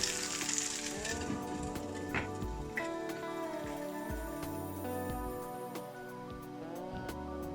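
Pork chops coated in an egg and onion batter fry in a covered pan, giving a steady, soft sizzle with faint crackles throughout and no talking.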